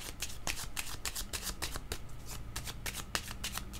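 Oracle cards being shuffled and drawn by hand, a quick run of crisp riffling flutters and flicks, close and fairly soft.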